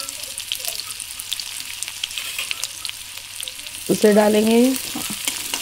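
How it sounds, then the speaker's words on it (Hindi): Finely chopped onion and green chilli fry in a pan, stirred with a spoon: a steady, moderate sizzle continues throughout, with a voice speaking briefly near the end. "और हमें बीच बीच पे चम्मच चलाते रहना है, नहीं तो हमारी प्याज यहाँ जल जाएगी"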